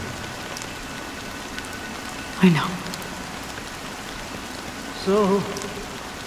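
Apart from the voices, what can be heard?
rain falling in video game Honkai Star Rail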